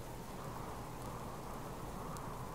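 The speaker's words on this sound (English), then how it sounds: "I mean, it is raining." Rain falling in the survival video game Subsistence, a faint, even hiss that holds steady throughout with only small ticks of drops.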